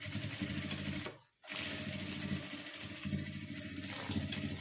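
A sewing machine runs close by, stitching a folded double seam on a fabric door toran with a rapid, continuous mechanical whir, broken once by a brief stop before resuming.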